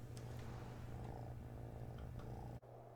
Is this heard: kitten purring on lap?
yes